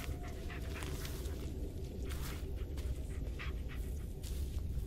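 A dog pants rapidly and steadily in the Blair Witch video game, set near an abandoned mine, the breathy rhythm continuous and fairly close over low ambient rumble.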